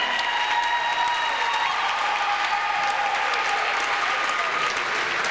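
A crowd at a Little League basketball championship applauds the runner-up Cavaliers, a sustained round of clapping with faint tonal murmurs from the gym running beneath it.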